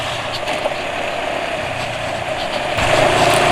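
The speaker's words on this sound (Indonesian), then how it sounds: "RPM mesin termasuk agak cepat turun" Diesel engine idling after an oil change to Pertamina Meditran SX, a steady low rumble with vibration that shifts slightly as the revs fall back near the end.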